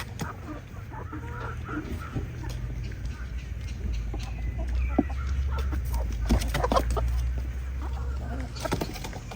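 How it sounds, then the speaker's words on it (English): Chickens cluck and mutter close by in a busy farmyard, with a rooster among them, scattered short calls and scratching over a low background hum. "Right there, that's another rooster."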